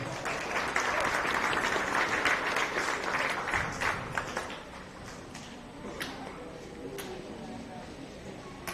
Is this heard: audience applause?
yes